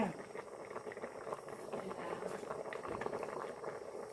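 Bamboo shoot and mushroom curry bubbles steadily in a pot, a dense continuous simmering hiss with soft popping close by, no voices over it.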